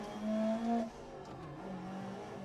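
A Group B rally car in a racing video game revs hard for a brief moment and then drops back to a lower, quieter engine note that holds steady on a tarmac stage.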